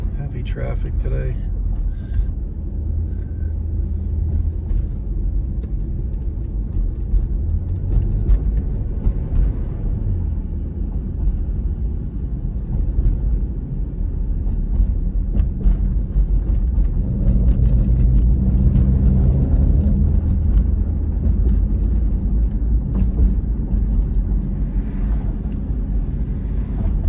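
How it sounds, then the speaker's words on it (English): Heavy road traffic on Florida's A1A rumbles continuously with engine drone and passing cars, while a person talks over it for most of the stretch. "Heavy traffic today."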